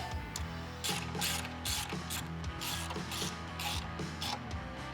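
A ratchet runs screws with washers in while a Grimm OffRoad under-hood compressor mount is fitted on a Jeep JL/JT, making a steady, close, continuous ratcheting clatter throughout.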